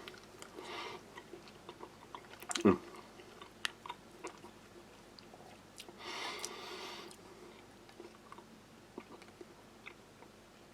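Someone chews MRE beef strips in tomato sauce close up, with soft wet mouth sounds and a few small clicks, one louder knock and a brief rustle partway through.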